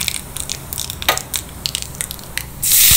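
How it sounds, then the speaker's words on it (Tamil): Curry leaves tipped into hot tempering oil with chana dal and asafoetida for coconut chutney: light crackles and spits, then a loud, steady hiss of sizzling that swells near the end, close up, with no voices. "இப்போ கருவேப்பிலையை சேர்த்துக்கலாம்"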